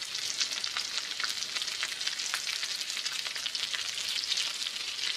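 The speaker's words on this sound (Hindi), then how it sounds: "आंच पर पकाऊंगी। कबाब पलट रही हूँ" Luffa and zucchini kebabs fry in a pan over medium heat, producing a dense, continuous crackling sizzle heard close up and alone, with no voices.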